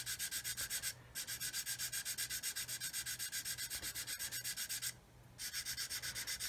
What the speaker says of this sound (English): So I'm just going to keep sanding until all of that black paint, all that black magic marker disappears.